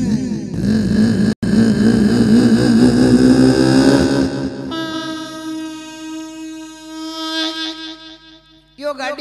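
A man imitates a vehicle engine with his voice, shifting into second gear: a rough, rising engine drone, a brief cutoff, then long sustained horn-like tones that waver before a final short burst.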